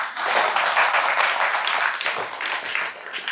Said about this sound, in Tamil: ஆமாவா இல்லையாங்கிறது கைத்தட்டல சொல்லுங்க.